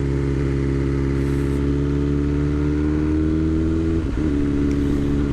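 A 2021 BMW S1000R inline-four motorcycle cruising in 4th gear at about 26 mph, its engine a steady, close, continuous drone with a slight dip in pitch near the end, no voices.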